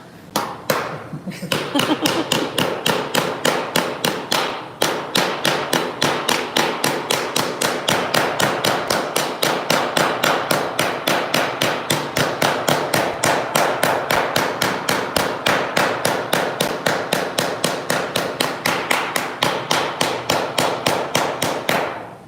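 A hand hammer beats a sheet metal panel against a beater bag while forming a raised panel, striking in a fast, even rhythm of sharp metallic blows, close and steady with no break.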